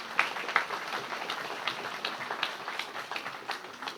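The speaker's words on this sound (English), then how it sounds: "please stand as well and give them a round of applause." An audience at an alumni association induction ceremony gives a round of applause, moderately faint scattered clapping with a few sharper hand claps standing out near the start.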